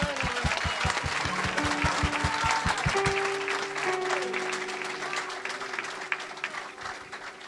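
A church congregation applauding during a service, with steady, loud rhythmic clapping through the whole stretch and sustained musical tones over it.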